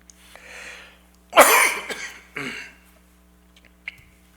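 A man lets out several dry coughs in a row, the loudest burst near the middle followed by a couple of shorter hacks, with a faint breath before them, close and in a quiet church hall.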